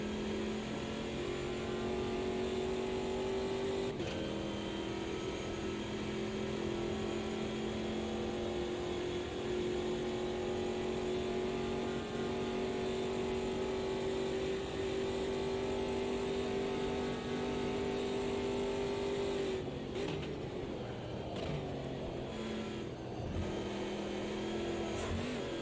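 A race car engine in the sim racing game Assetto Corsa Competizione drones steadily at high revs for about twenty seconds, then stutters and dips as the throttle is eased and blipped near the end.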